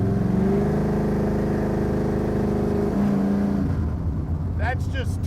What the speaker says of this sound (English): We're gonna give it a little more throttle here now.